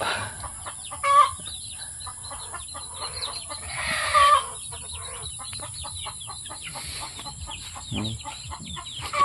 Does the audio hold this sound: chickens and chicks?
yes